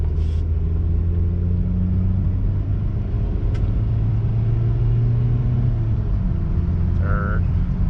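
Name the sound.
2002 Toyota RAV4 accelerating, shifting through automatic gears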